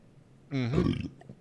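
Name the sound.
burp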